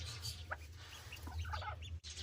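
Small Cayuga ducklings peep in scattered high chirps beside their mother duck, close by, over a steady low hum with no talking.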